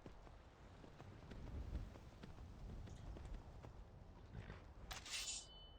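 Steady clip-clop of horse hooves at a trotting pace in Skyrim, fairly faint, with a brief bright chime near the end.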